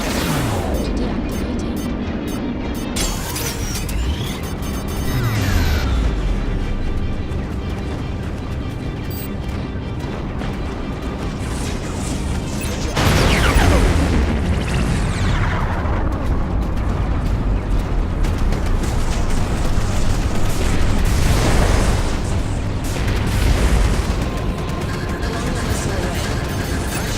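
Missile launches and heavy explosions in the space combat game Strike Suit Zero, with rumbling booms and sweeping whooshes building over a continuous loud battle bed, growing more intense midway through, with occasional voices under the din.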